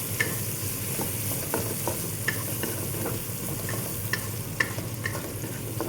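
A kitchen exhaust fan runs with a steady, loud broadband whoosh while mung beans (monggo) and onions are cooked, with faint crackling sizzle and scattered small clicks on top.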